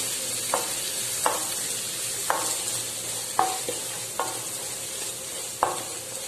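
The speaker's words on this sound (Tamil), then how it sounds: "வெங்காயம் பச்சை மிளகாய் சேர்த்திட்டேன். நல்லா ஃப்ரை ஆகட்டும் வெங்காயம்." Sliced onion and green chillies sizzle steadily in a pan, with a spoon stirring and knocking against the metal every second or so, the frying close and continuous with no voices.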